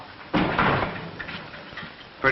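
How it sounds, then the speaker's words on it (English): A door is shut indoors in a 1941 western film: one firm thud and rattle, then a short stretch of room noise, with another sharp knock right at the end. "Shut the door"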